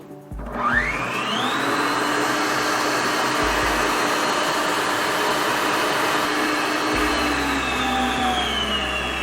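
An electric stand mixer whirs up to speed beating cake batter for a Pernambuco bolo de rolo, holding a steady, loud motor whine with a bright, even hum throughout.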